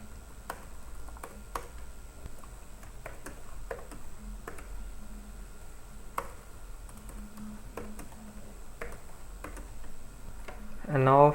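Keys tap on a computer keyboard in sparse, irregular clicks, close and fairly quiet, as database insert queries are entered, with a brief voice at the very end.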